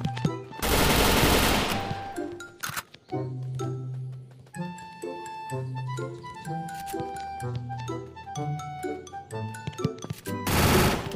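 Free Fire mobile gameplay with M4A1 fire: loud rapid bursts of automatic gunfire open and close the passage, while chiming game tones and musical effects play in between.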